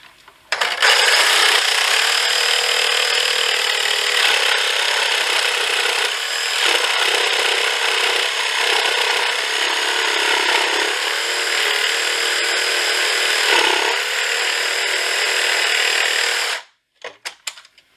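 A 1950s Craftsman table saw cuts wood to make a zero clearance insert, giving a loud, steady whine that runs for about sixteen seconds before stopping abruptly, with no talk over it.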